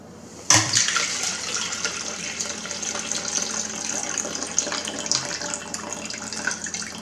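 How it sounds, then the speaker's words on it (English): Water gushes steadily out of a Topia 1 gallon thermos after an ice retention test, a sudden splash at the start and then a continuous close pouring stream, with no talk over it. "Get all the water out of it."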